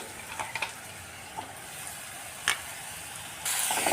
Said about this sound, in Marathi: आता हा मसाला देखील आपल्याला यामध्ये व्यवस्थित परतून घ्यायचा आहे